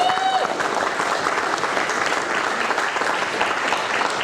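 Steady, dense applause from an audience at a radio station's awards event, loud and continuous throughout with a brief tonal whistle near the start.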